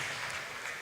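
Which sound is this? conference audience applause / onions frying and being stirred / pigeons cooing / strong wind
conference audience applause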